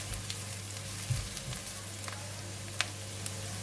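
Onions and green chili stir-frying in a pan for stir-fried okra with dhal, a steady moderate sizzle with a few faint clicks of stirring.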